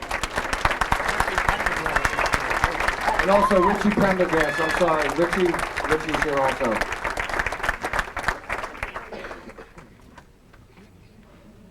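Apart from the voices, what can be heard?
audience applause for hall of fame inductees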